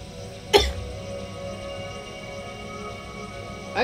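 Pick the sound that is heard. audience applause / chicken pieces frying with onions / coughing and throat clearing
coughing and throat clearing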